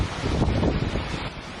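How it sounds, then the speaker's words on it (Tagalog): Strong typhoon wind buffets the microphone in a flooded coastal area, a loud, roaring rush with gusting swells close by and no voices. "Rinig din ang pagsipol ng hangin."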